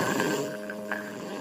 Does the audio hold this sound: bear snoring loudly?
yes